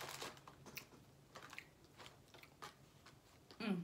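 Crackers dipped in crab salad being chewed, with soft, irregular crunches and bites spaced through a quiet room and no speech.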